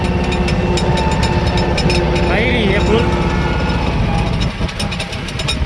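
A tractor engine runs loud and close with a steady rumbling throb, and a voice speaks briefly over it.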